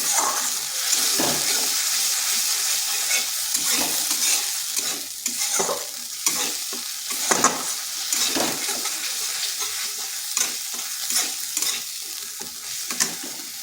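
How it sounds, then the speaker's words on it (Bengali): Spice paste fries over low heat in a pan while being stirred, a steady close sizzle broken by repeated scraping strokes of the spoon, with no voices. "বেশ কিছুক্ষণ মশলাটা এইভাবে ভেজে নিতে হবে যাতে তার কাঁচা গন্ধটা চলে যায়।"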